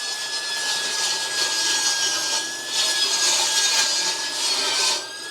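Table saw with its blade set high, cutting through OSB sheet in a metal-building workshop: a loud, steady high-pitched whine and grinding rasp that swells and dips over several seconds before cutting off.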